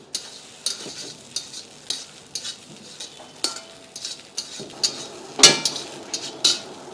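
Egg rice stir-fried in a pan with salt, chili powder and garam masala, a soft continuous sizzle broken by regular close metallic scrapes and taps of a spatula on the pan, with no talking.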